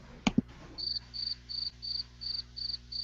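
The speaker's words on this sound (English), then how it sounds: "Oh, it was the crickets." A crickets sound effect follows two sharp knocks, with seven evenly spaced, shrill chirps pulsing about three times a second, clear and isolated against a quiet background.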